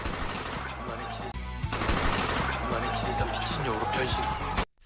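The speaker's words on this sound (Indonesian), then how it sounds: "tembakan menghujani bando hotel" Gunfire in a scene from the fantasy drama Tale of the Nine Tailed 1938, set at the Bando Hotel, with rapid bursts of shots and impacts layered under a speaking voice, loud and chaotic for several seconds.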